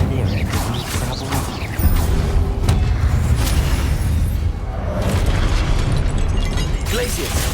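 A Confringo spell goes off in the Hogwarts Legacy game as a loud, sustained explosive rumble with crackling bursts and mechanical clatter over game music, alongside voices.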